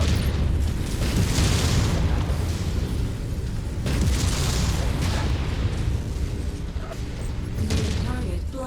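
Heavy missile explosions in the mech combat game MechWarrior 5, dense booming blasts and rumbling that recur through the clip at close range.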